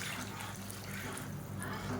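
Roasted gram paste dissolved in water being poured into simmering idly sambar, a continuous soft liquid pouring and splashing close by, heard alone for a brief moment.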